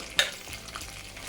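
Garlic, green chilies and curry leaves frying in a pan for a raw turmeric pulusu give a brief, soft sizzle, with a small clink near the start.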